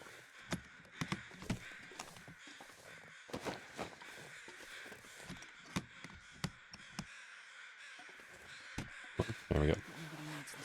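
Crows caw repeatedly in the wintry wilderness of The Long Dark, sharp calls scattered across the clip at close to moderate distance over a steady windy bed, with a voice speaking at times.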